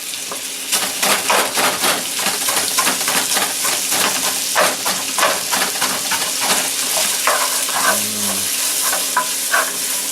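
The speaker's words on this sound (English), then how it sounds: "We're going to stir this until the onion goes limp." Onion frying in a pan for lecsó, a steady loud sizzle broken by repeated scraping stirs up close, with a short low clunk of cookware near the end.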